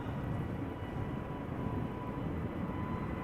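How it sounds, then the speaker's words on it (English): Brand-new EasyJet Airbus A320neo departing Amsterdam Schiphol for Prague: a continuous broad jet engine rumble, fairly close and steady across the short stretch, with no voices. "next up, A320neo, EasyJet, going to Prague"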